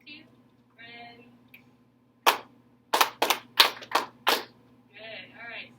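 A middle school band class claps a rhythm together in a classroom: five or six sharp, unison group claps in a steady pattern, with brief talk from the teacher before and after.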